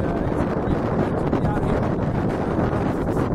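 Steady cold wind buffeting a microphone outdoors, a constant low roar with gusty rumble, loud and close throughout, no voices.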